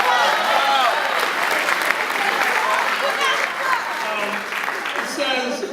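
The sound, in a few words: applause from graduation audience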